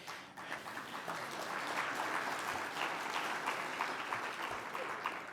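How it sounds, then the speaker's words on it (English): Audience of mayors at a winter conference meeting applauds with a steady, even wash of clapping from a large hall crowd, sustained and moderately distant. "They are applauding us, Tom, for being so"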